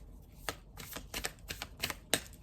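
Tarot cards are shuffled at close range, a series of quick riffling bursts and soft flicks in an otherwise quiet room.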